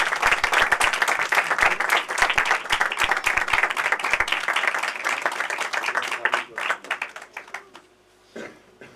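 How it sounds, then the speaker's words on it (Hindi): A church congregation at a Sunday evangelical meeting claps loudly in a dense, crackling burst that thins into scattered claps and fades, with a voice rising near the end. "जोरदार तालियों से।"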